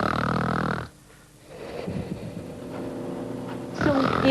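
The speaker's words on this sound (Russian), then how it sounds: "Пациент громко храпит?" A patient snoring loudly in a hospital sleep laboratory, a deep rough snore with throaty growling texture, a brief pause, then continued heavy breathing rumble, close and alone.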